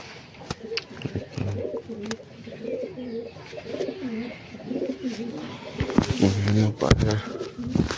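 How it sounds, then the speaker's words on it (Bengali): Pigeons coo close by in repeated, rolling low calls that run through the whole stretch, with a few soft thumps and rustles around them. "পায়রাটাকে দেখুন"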